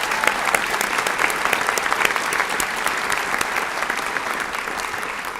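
A legislative audience at a State of the State address gives a long, loud, even round of applause with no break.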